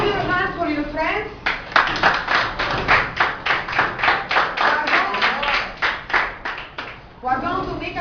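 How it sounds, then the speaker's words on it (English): Children in a classroom clap their hands in a steady rhythmic run of sharp claps, loud and close, with a voice speaking before and after. "Clap your hands for your friends."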